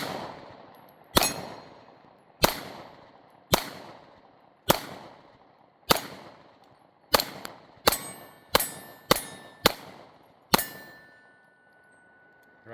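An FN Reflex pistol fired one-handed, nine sharp shots in a steady, slightly quickening series with ringing decay after each, no talking.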